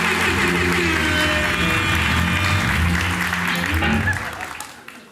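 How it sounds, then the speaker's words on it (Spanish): Studio audience applauding guests on a live Colombian comedy talk show, steady dense clapping that carries loud throughout and fades out near the end. "un aplauso para ellos"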